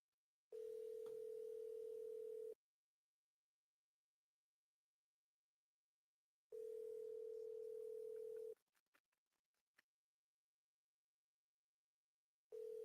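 A telephone ringback tone sounds while calling a realtor, steady two-second bursts separated by about four seconds of silence, with faint clicks on the line between rings.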